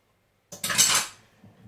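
A spatula folds sticky pretzel dough in a bowl, giving one brief, close scraping swish against the bowl edge.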